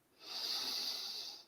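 A single close, steady deep inhale through the nose, a soft airy hiss lasting just over a second.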